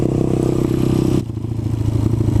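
Motorcycle ridden while practicing wheelies, a loud steady engine drone close by that drops abruptly midway as the throttle eases, then continues at a lower hum.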